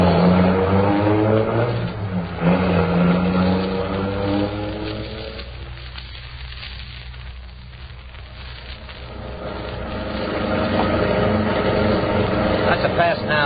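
A getaway car in an old radio crime drama accelerates hard: a continuous engine drone that dips in the middle, then swells and revs louder toward the end, with no voices over it.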